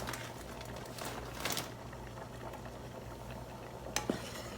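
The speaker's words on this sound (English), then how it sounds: "I'm going to give it a stir." Haitian-style mac and cheese with ground beef is stirred in a pot on a turned-down stove, giving faint scraping and clinks of the utensil against the pot over a low steady kitchen hum, with a sharper clatter near the end.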